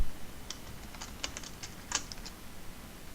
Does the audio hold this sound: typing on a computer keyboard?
yes